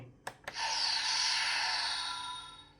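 Two sharp clicks, then a sustained bright whooshing electronic hiss that swells and slowly fades, a Bandai CSM V Buckle toy transformation belt effect playing alone.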